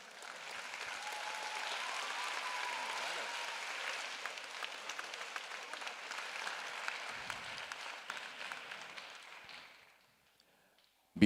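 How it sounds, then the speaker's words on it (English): An audience at the junior final round of a ballet dance competition applauds in a sustained, fairly loud wash of clapping that gradually fades out to near silence. "Yes, please, a round of applause."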